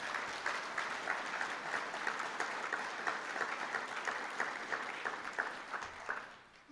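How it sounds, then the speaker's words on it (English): An audience at the 2015 Wisconsin Lakes Partnership Convention lunch claps steadily in a large room, a sustained wash of many hands that tapers off near the end. "Let's give them all a big round of applause."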